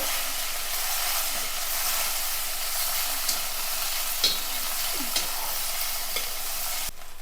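Boiled, finely chopped potato being sautéed in a pan, a constant close-up frying sizzle broken by a few scraping stirs and light spatula knocks, with no talking.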